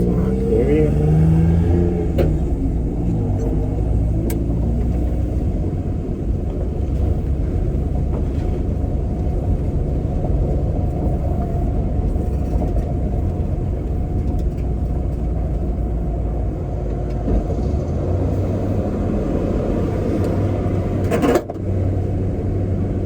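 An old family heirloom truck, bought new generations ago and driven after years of sitting, rumbles steadily down the road with a constant low engine drone and road noise throughout, one brief bump near the end.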